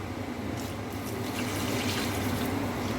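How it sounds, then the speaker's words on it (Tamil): Steady rushing pour of water into a cooking pot for egg biryani, a continuous splashing flow lasting the whole moment with no voices. "இப்போ 8 டம்ளர் தண்ணி ஊற்றிக்கலாம்."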